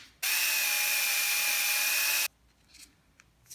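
A power drill bores a hole for an eye bolt in hard plastic, a loud steady high-pitched whine starting abruptly and stopping after about two seconds, followed by faint handling noises.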